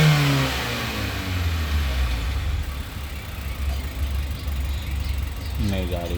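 A Suzuki Carry pickup running on CNG after a petrol-to-CNG conversion with a fault, its engine revving steadily under a low rumble, close by, while someone talks over it.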